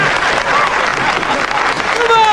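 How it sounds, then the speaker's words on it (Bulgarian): Applause for former congressman Dodge in a 1992 Eddie Murphy film, a dense, steady wash of clapping throughout with voices mixed in. "Аплодисменти за бившия конгресмен Додж!"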